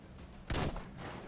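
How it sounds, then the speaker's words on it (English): A single loud gunshot in Metro Exodus, fired at a lamp, cracks sharply and briefly before a short fading tail, with a quiet ambient hum before and after. "Let me shoot the lamp."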